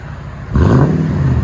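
A Toyota Tundra fitted with a Carven exhaust muffler fires up into a short, loud rev, a deep booming exhaust note that jumps suddenly from near quiet and holds.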